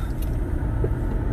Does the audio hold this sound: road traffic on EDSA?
yes